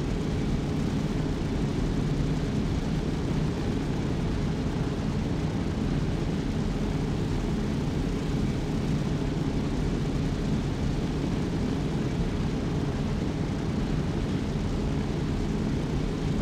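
A C-130 Hercules in a video game flies over Takistan with a steady, loud propeller-engine drone that holds unchanged throughout.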